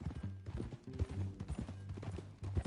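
Horse hooves clip-clopping at a walk in Red Dead Redemption 2, a close, uneven series of soft thuds over about three seconds, no voices.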